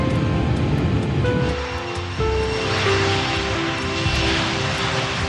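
BAC 111 jet airliner engines roar with a broad rushing noise, and a rising whine and tones shift partway through as the engines spool, steady and fairly loud throughout.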